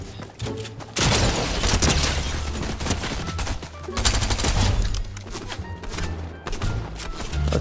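Dense, loud bursts of rapid gunfire and booming impacts fill a Fortnite Zero Builds fight, sustained throughout with little pause.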